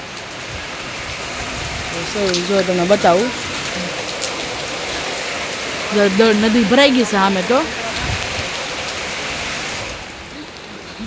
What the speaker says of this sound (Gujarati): જોરદાર વરસાદ આવે છે.